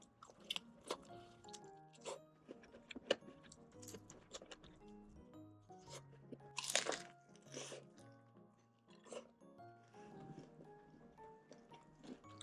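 Crunchy fried food is chewed close to the microphone, with crisp irregular crunches and bites and soft mouth sounds in a quiet room.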